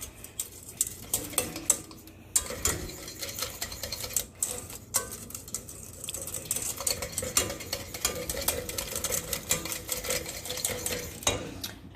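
Mole sauce being stirred in a pan for enchiladas, a steady busy scraping and clinking of utensil against cookware with soft sizzling underneath, close and continuous without talk.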